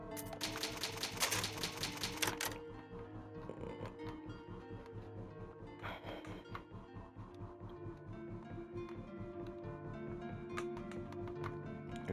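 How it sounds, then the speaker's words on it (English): Old typewriter save point in the Resident Evil video game, a rapid burst of clattering key strikes up front followed by softer tapping and mechanical clicks over a steady game soundtrack. "And old typewriter, you can save."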